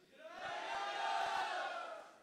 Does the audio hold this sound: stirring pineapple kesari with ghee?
no